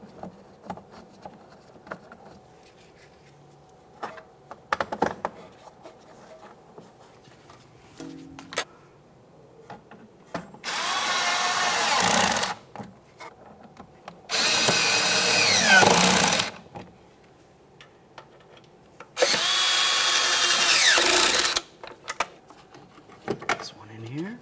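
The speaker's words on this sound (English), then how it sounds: "Let's install our 4 mounting screws here." Power drill driving four mounting screws into the front inner fender liner of a 2017-2023 GMC Acadia, heard as three short loud whirring bursts separated by quiet pauses with clicks and handling noises.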